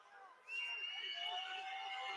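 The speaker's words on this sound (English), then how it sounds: "the Wahoo crowd is just furious right now" A basketball crowd of Wahoo fans at a boys' state Class C1 game erupts in sustained, loud, angry shouting and jeering after a foul call, a dense roar that holds steady.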